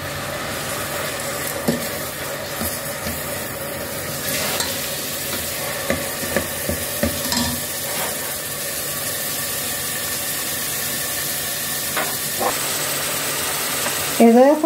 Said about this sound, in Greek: Έχουμε βάλει λάδι στην κατσαρόλα και έχω τρίψει δύο κρεμμύδια.